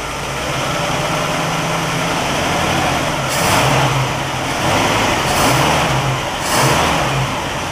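A 1960 Pontiac engine found in a barn idles steadily and then revs up sharply three times in quick succession, loud and close, with no talk over it.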